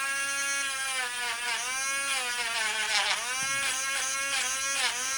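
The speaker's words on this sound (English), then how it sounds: "I'm sure you probably do not want to listen to this Dremel tool run for the duration of while I'm doing all this" A Dremel rotary tool whines continuously at high speed while polishing a Mosin-Nagant rifle bolt, its pitch dipping and rising as the metal is pressed against it, close and steady with no talk.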